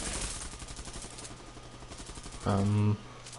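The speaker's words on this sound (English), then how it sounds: "You hear the mortar shooting." Mortar fire in the Bullet Run shooter game comes as a rapid run of crackling shots, then one louder, ringing burst near the end, all close and fairly loud.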